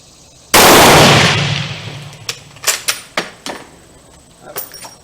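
A Steyr M95 long rifle firing an 8x50R cartridge gives one loud, sharp close report that rings out and decays, followed by several lighter metallic clicks and clacks of the action.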